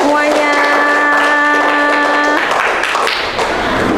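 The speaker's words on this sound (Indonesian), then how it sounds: "Tepuk tangan buat kita semuanya." Audience clapping at an indoor gathering, a burst of hands under a sustained musical tone at first, then continuing as loud, close clapping with some thumps.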